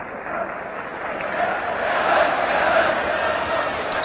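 A large football crowd of about 30,000 roars at White Hart Lane during Spurs versus Nottingham Forest in the 1983–84 season, a distant, swelling murmur that builds and stays loud throughout.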